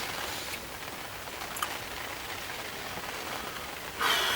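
Steady rain patters on a campsite at Big Hayes, Todber Manor, a dense, even hiss throughout with a brief louder burst of drops near the end; no one speaks.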